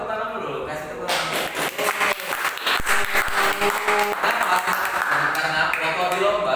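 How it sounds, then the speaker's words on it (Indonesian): An audience at a school debate event breaks into sustained clapping, loud and dense, with voices talking over the applause. "Kasih tepuk tangan."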